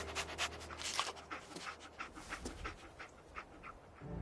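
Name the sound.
dog panting in a video game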